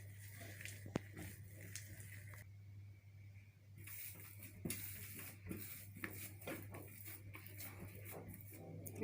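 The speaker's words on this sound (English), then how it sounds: "So we'll continue mixing until we make a dough." Coconut scone dough being mixed with buttermilk in a bowl: quiet, soft squishing and scraping strokes with occasional clinks of utensil on the dish, over a steady low hum.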